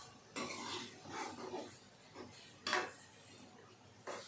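A utensil scrapes and clatters in a pan while spices and garam masala are stirred and mixed, in a few irregular, moderately close bursts with quiet gaps between.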